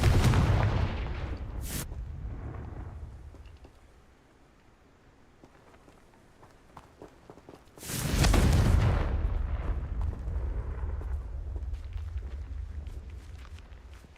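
Two heavy blasts from the Confringo blasting spell in Hogwarts Legacy, one near the start and a louder one around eight seconds, each a sharp burst followed by a rumbling low roar that fades under steady background din.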